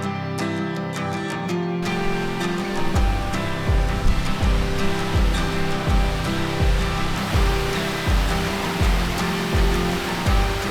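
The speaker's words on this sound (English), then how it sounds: "Waterfall." Bridal Veil Falls, a waterfall near Telluride, Colorado, gives a continuous broadband rushing roar, heard up close and steady throughout, blended with rhythmic pulsing music, and no one talks.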